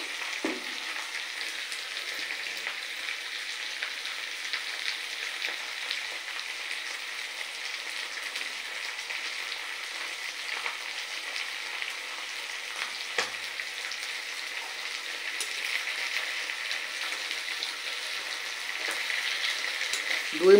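Fish frying in mustard oil over a high flame gives a steady, even sizzle that stays close and continuous throughout, with no talking.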